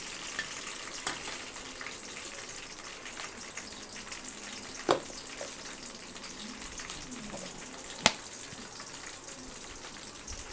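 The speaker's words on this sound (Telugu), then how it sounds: "ఆయిల్ అయితే వేడెక్కింది. ఆవాలు వేసుకుంటున్నాను, పల్లీలు, పచ్చిమిర్చి," Mustard seeds, peanuts and green chilies frying in hot oil make a faint, steady sizzle, broken by a couple of sharp pops or clicks.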